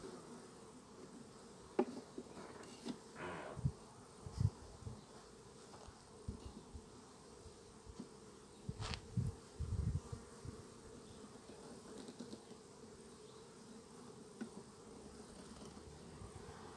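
Honeybees from a swarm colony buzz softly around a wooden hive, a faint continuous hum broken by several louder, brief buzzes as individual bees fly close past, along with occasional knocks and handling noises.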